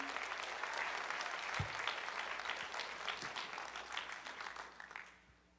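Graduation audience at an eighth grade ceremony applauds steadily, a full room of hands clapping at even loudness before tapering off at the close.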